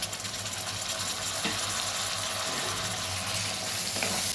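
Tomato pieces stirred into a dry prawn, drumstick and egg curry in a pan, a steady wet hiss of cooking with soft scraping and stirring throughout, no talk.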